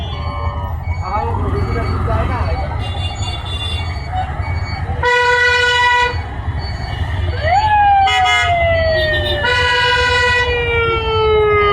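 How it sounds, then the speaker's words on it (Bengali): An ambulance siren wails through a traffic jam at Banglabazar in Barisal, loud and nearby, with rising and falling tonal blasts and sweeping pitch glides over a dense rumble of engines and horn toots. "অ্যাম্বুলেন্স আসছে"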